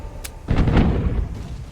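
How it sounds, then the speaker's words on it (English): Partially loaded pirate ship cannon in the Tortuga video game, a single heavy boom after a short click, rolling into a low rumbling decay over about a second, loud and close with no talk. "we had fired a partially loaded cannon"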